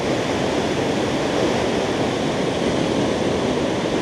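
Water pours over White River Falls in Oregon, a steady, dense roar of falling water that holds constant and fairly loud throughout, with no voices over it.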